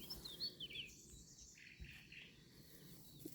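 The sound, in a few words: birds singing during a forest walk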